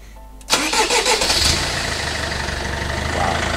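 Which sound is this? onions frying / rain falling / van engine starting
van engine starting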